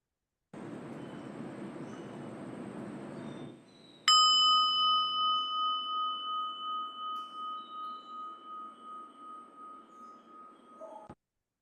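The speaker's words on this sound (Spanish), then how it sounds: "Voy a tocar la campana una vez para comenzar y 3 veces para terminar." A meditation bell is struck once after a few seconds of soft background noise. It rings out clearly with a long, pure, wavering tone that slowly fades over several seconds before it stops abruptly.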